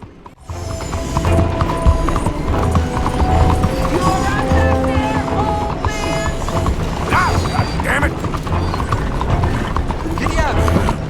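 Horse hooves clip-clop along a town street in Red Dead Redemption II, a steady trotting rhythm close by, layered with ambient street noise and brief creaks from mechanisms and harness.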